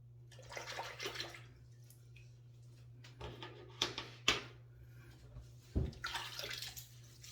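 Running water splashes close by as a face is rinsed after a first shave, coming in irregular bursts with short pauses and a few brief knocks, no talking.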